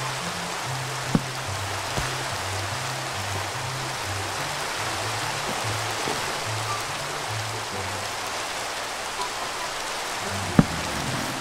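Steady rain in the Minecraft video game, a soft, even hiss of falling water throughout with a faint low tonal drone beneath and a couple of brief clicks, no talking.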